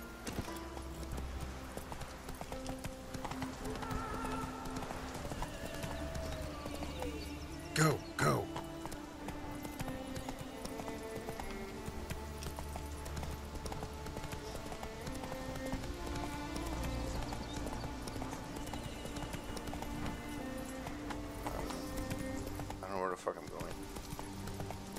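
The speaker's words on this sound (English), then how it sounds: "let me get my horse." Horse hooves clip-clopping at a quick galloping rhythm in the video game Witcher III: Wild Hunt, continuous under game sounds and a brief neigh, with a person talking over it.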